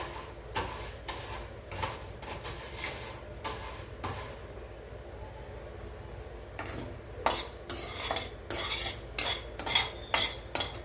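Rice grains roast in a hot kadai as a metal spoon stirs and scrapes, giving bursts of clinking and scraping strokes, irregular at first and then quicker and louder near the end, heard alone.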